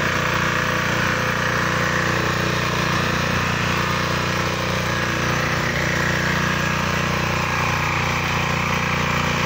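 A 12 horsepower four-wheel mini tiller engine running steadily, a loud, continuous droning chug with no change in pace, close by and with no talking.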